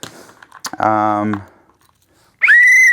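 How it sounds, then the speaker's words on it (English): A shrill first-aid-kit whistle sounds twice, a sustained blast followed after a pause by a brief higher-pitched one, loud and close. "Whistle for signaling help."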